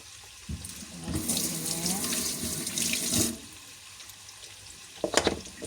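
Running tap water splashing over vegetables in a kitchen sink while washing broccoli and carrots, a steady rushing stream for a couple of seconds that stops, followed by a brief clatter.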